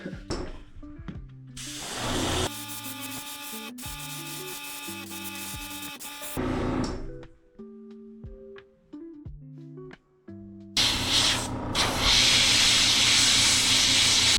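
Spray paint hisses onto a tiny crankbait lure, coating it black in several short and longer bursts, the loudest near the end, with tonal background music running throughout.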